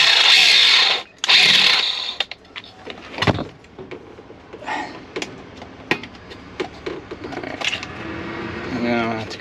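Short bursts of a power tool grinding out a plastic gauge cluster cover during a car gauge cluster replacement, with whirring spurts and clunks close by and someone talking between them.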